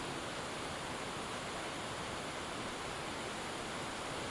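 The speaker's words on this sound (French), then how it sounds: "Caché derrière les remous bouillonnants de la cascade" A waterfall's water rushes and churns in a continuous, dense, even roar, loud and close, with no breaks or other sounds.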